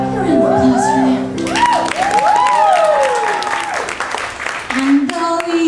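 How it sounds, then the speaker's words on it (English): Applause with scattered cheers and whoops from an audience at a club's final-night show, mixed with loud music and voices talking over the clapping throughout. "Round of applause for that."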